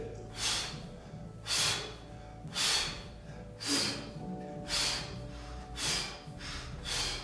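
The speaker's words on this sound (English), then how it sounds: "Want to hear that breathing?" Exaggerated breathing during a Pilates exercise, seven loud rhythmic breaths at an even pace of roughly one per second, close and alone with no talk.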